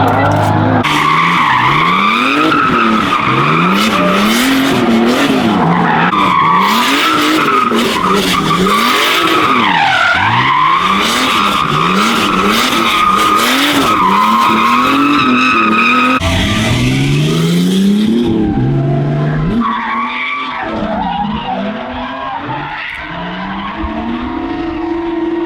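A turbocharged BMW E36 sliding on semi-slick tires, loud continuous tire squeal and skidding over a working engine for about eighteen seconds, then the car settles into a calmer, rougher engine drone.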